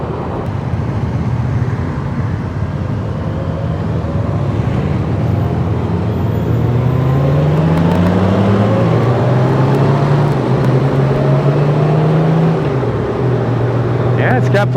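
A 2026 Honda Gold Wing engine accelerates in sport mode, a steady loud drone with a rising pitch, a gear change, and more climbing, beneath wind rush and riders talking.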